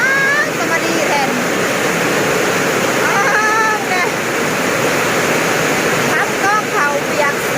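Heavy rain pours steadily in a dense, loud hiss that goes on all evening, while a voice speaks and calls over it.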